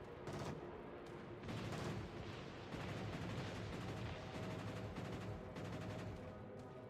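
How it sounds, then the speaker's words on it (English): Naval gunfire in the video game World of Warships, a dense barrage of booming cannon shots and blasts rolling one after another, loud and close, with no talk over it. "Concentrate fire on the enemy warship"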